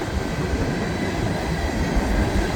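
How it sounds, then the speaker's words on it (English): A Norfolk Southern hopper train rolls past in the rain, its cars rumbling and clattering steadily and close by, with no talking over it. "But hey, who doesn't like a little train in the rain?"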